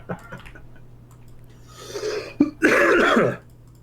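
A rough, throaty cough sounds up close, a couple of harsh bursts after some quieter throat noises, with no speech.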